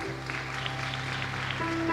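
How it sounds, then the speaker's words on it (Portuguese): Congregation applauding at an evening church service, soft scattered clapping at a distance beneath a sustained keyboard or organ tone. "Pode aplaudir ao Senhor?"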